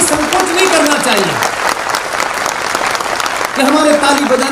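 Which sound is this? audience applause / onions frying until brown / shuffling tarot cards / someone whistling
audience applause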